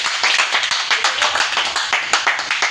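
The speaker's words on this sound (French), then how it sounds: "Et je demande à la salle d'acclamer très fort." An audience at a Cameroonian community mini-tournament applauds loudly on request, with steady, close hand-clapping in a fast, even rhythm that keeps going for the whole stretch.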